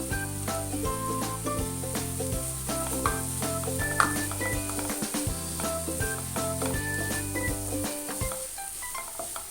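Grated paneer sizzles steadily in a pan with chilli powder, turmeric and garam masala while being stirred, a continuous close frying hiss under a bed of music.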